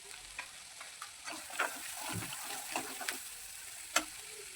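Malvani masala roasting in a pan for a vam fish curry, a quiet steady sizzle with scattered light spoon taps and one sharper clink near the end.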